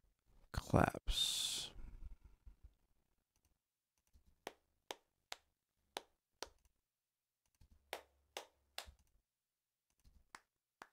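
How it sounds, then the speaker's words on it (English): A recorded hand-clap track from a mixing session plays as a steady series of sharp, isolated claps spaced about half a second apart after a brief burst of voice, with near-silent gaps between hits. "Claps."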